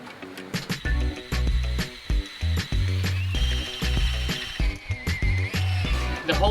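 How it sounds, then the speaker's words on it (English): A power drill boring holes to attach the back wing to a model airplane's fuselage, in short repeated bursts of whirring with stops between, close and loud, no talking. "The holes are drilled."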